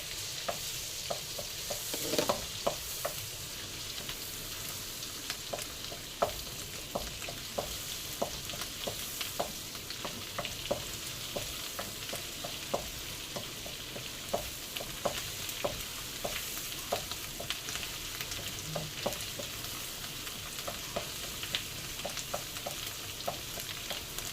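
Garlic frying in butter in a pan for Coke butter shrimp, a steady bright sizzle with regular sharp clicks of stirring throughout, close and alone without talking.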